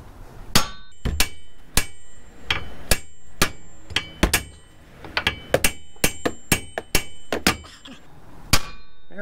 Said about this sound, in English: Okay, using a hammer, strike it right here. This should pop it loose.